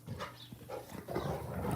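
A Rottweiler entering a room during dog play, with soft low barks, yips and whimpering sounds close by, quiet and brief.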